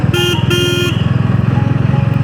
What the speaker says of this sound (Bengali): যদিও সিঙ্গেল হর্ন কিন্তু সাউন্ড কোয়ালিটিটা চমৎকার।